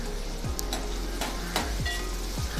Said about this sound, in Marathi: यामध्येच बारीक चिरून घेतलेला कांदा काढून घेऊया आणि छान सोनेरी रंग येईपर्यंत परतून घेऊया